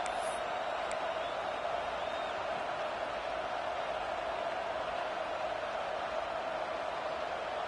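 Stadium crowd noise in a Madden NFL football game swells as a steady, dense roar at a first-and-goal moment, loud and unbroken throughout.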